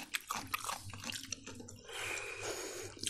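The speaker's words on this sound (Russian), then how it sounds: "Огурчики хрустят." Close, wet crunching and biting sounds come in irregular bursts as someone chews crisp lightly salted pickled cucumbers, with soft breathing in between.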